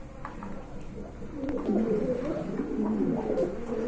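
Imported pigeons at a breeding farm, a pair cooing in soft, rolling low calls that swell and continue through the second half, close to the microphone.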